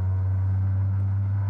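Tyres drumming over rumble strips on a Danish road make a steady, loud, low droning hum from inside a car, continuous and unbroken, with no one talking.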